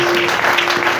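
A church congregation at an evangelical convention claps and cheers, a dense burst of applause filling the whole moment, loud and close, with a steady hum beneath.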